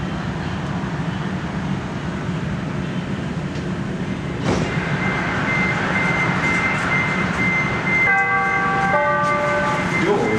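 Continuous low rumble and rattle of a Chicago CTA Blue Line subway train in motion toward O'Hare, with a sharp clank midway and a series of electronic beeps near the end.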